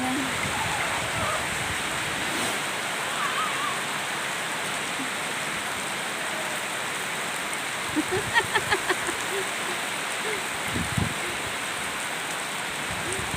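Heavy rain pours down in a steady, dense hiss outdoors where children play in the water, with a few brief knocks and faint voices rising out of the downpour near the end.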